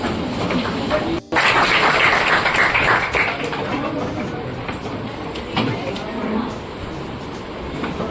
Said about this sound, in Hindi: बैठ जाओ, बैठे बैठे ताली बजाओ।